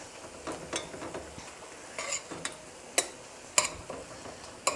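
Ground turkey simmering in a pan with its water cooking off, giving a soft steady sizzle with scattered clicks and scrapes of a spoon stirring, fairly quiet with no talking.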